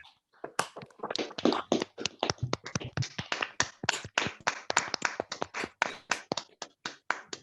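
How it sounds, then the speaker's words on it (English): A few people clap for a conservation speaker, Paul Elkin, during an online talk on South Sudan; the sparse, distinct claps sound close and uneven, as if from a handful of participants. "Let's give Paul Elkin a round of applause, ladies and gentlemen."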